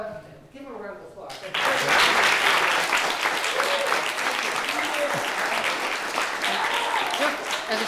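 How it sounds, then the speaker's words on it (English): An audience breaks into a loud, sustained round of applause after a talk, dense clapping that swells suddenly and holds steady for several seconds, following a brief moment of quieter sound. "let's give him a round of applause"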